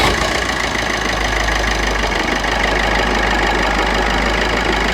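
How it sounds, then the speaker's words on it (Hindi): A car engine runs at a steady idle right after starting, following an intercooler cleaning on a vehicle with a turbo fault and white and black smoke, with a loud, continuous low rumble and a slight knocking texture throughout. "ये देखिए ये अभी मैं इंजन स्टार्ट करूँगा।"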